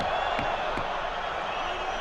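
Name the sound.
rugby stadium crowd reacting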